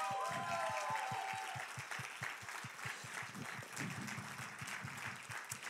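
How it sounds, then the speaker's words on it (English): A church congregation bursts into applause, a dense wash of clapping with rhythmic beats under it, likely music, and some voices in the mix. "Can we give all a round of applause to all the people working behind the scenes?"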